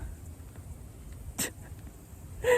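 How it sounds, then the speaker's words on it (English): A single short, sharp sneeze from a cow, fairly close, against quiet low background noise, followed by another brief snort near the end. "And the cow just sneezed."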